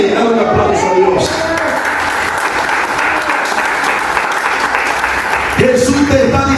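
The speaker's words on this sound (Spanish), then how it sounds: "Dale un aplauso a Dios." A church congregation claps steadily and loudly throughout a Spanish-language evangelistic service, with a voice rising again over the applause near the end.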